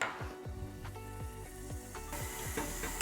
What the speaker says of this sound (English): Usually like to cook the onions on a little bit of a lower heat to really start to melt them.